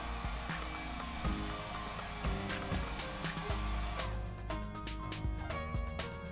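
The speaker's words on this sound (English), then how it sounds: "we're going to warm these areas with a hairdryer" A hair dryer blows steadily with a constant whooshing hum while warming a protective film on a Samsung Galaxy S6 Edge, with faint clicks and taps over it.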